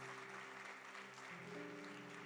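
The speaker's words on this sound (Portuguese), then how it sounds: "Vamos aplaudir o Senhor Jesus por essa vida?" A church congregation applauds in steady, moderate clapping that fills the whole stretch, with sustained organ or keyboard tones holding underneath.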